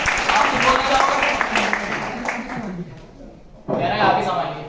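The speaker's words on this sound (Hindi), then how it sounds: "तो जोरदार एक बार तंजीम के लिए तालियां हो जाए" An audience at a Vestige team training session in Moradabad claps for Tanzeem in a burst of scattered applause that fades, then rises again toward the end, mixed with a speaker talking over a microphone.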